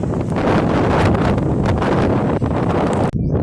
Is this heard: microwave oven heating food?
no